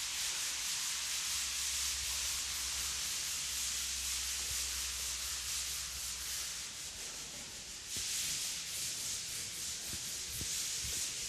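Hand sanding with 80 grit sandpaper during a Pandomo floor application: a continuous close, loud rhythmic rasping scrape that is steady throughout with a short dip in the middle, with no talking.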